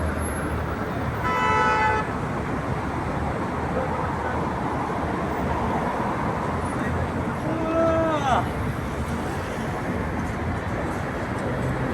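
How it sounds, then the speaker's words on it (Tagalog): Busy afternoon street traffic rumbles steadily while car horns honk twice, a short toot early and another around the middle, with a voice heard at times. "Traffic naman uli oh."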